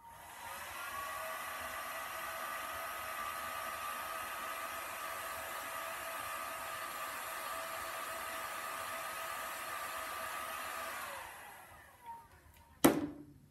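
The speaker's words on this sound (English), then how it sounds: "The best thing for doing this is one of these wallpaper stripping heat guns." Steady close whooshing blow of a wallpaper stripping heat gun warming shrink tube, running evenly for about eleven seconds before cutting off, followed by a sharp click.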